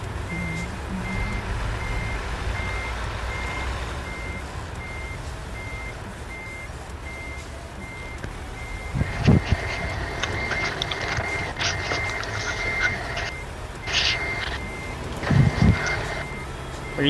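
Real vehicle backup alarm heard alongside a trucking convoy game session: a steady train of regular reversing beeps runs through the middle and later part, with a second beeper joining, over a low engine hum and no talk.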